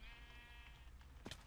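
Sheep bleating in the video game Minecraft, a faint and low-level sustained bleat followed by a short second call near the end. No voices are heard.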